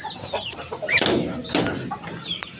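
Hens clucking at a home where pigeons are also kept, soft broken clucks and a few higher calls close by over light background noise.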